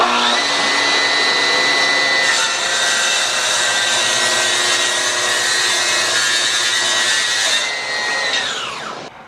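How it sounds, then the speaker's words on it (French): A power saw cuts steadily along a marked line through a wooden board for a vanity, producing a loud, sustained whine that runs unbroken for several seconds before winding down at the end. "la scie va s'occuper de suivre la ligne tout seul"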